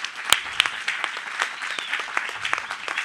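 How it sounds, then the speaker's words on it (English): A keynote audience at a design forum in New York applauds for Jess, sparse, crisp individual claps from a modest crowd over about three seconds, with no talking. "So one more round of applause for Jess."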